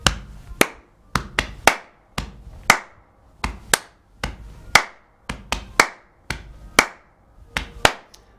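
Body percussion groove in a straight hip hop style, with lower slaps on the stomach, hits on the chest and sharp hand claps standing in for a snare, repeating in a steady four-beat pattern, close and loud with no voices.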